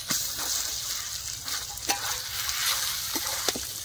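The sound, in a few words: onions frying in a pan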